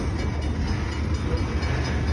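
A CN freight train rolls steadily along the North Bridge line in Prince Albert, a continuous loud low rumble with a broad wash of rail noise and no distinct clacks or horn, heard alone.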